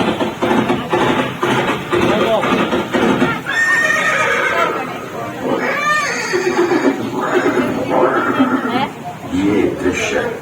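A horse neighs and whinnies repeatedly in a Chetak museum display scene at Haldighati, with clip-clopping hooves mixed in, loud and close over dramatic background sound and narration.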